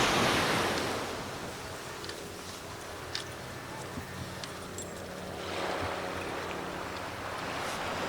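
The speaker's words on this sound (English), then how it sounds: "You can see those waves not breaking so rough anymore" Ocean waves wash onto Jolly Beach in a steady, broad rush of surf, swelling gently as they roll in, with wind across the microphone.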